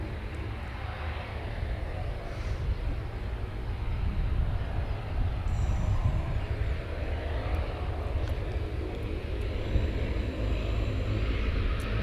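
A QantasLink Dash 8 turboprop comes in to land at Cairns Airport. Its engines give a distant, steady drone that swells slightly and then holds, with no voices over it.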